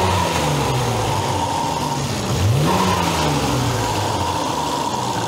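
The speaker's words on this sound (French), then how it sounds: "L'admission, elle est ultra bruyante. C'est turbo de McLaren, ça fait exprès." A car engine with a loud McLaren turbo intake revs hard, a rising and falling surge near its peak, over a steady roar with no talking.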